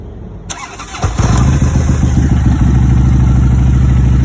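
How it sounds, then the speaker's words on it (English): A Harley-Davidson motorcycle cranks over and fires up, settling into a loud, close, lumpy idle that keeps pulsing steadily through the rest of the clip. "That is a Harley-Davidson, man. We always crank up."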